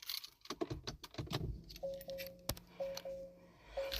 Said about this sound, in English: Turn the ignition on.